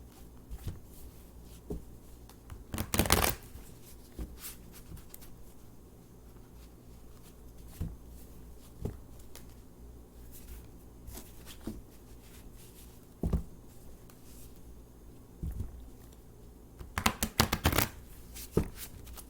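Tarot cards shuffled by hand in quiet, scattered riffles and soft taps, with two louder bursts of shuffling near the start and end.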